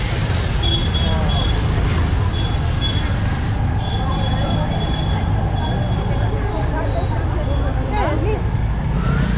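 Heavy, congested street traffic in Kathmandu, a loud continuous roar of engines from buses, trucks and cars with horn tones and hissing brakes close by, while someone talks throughout.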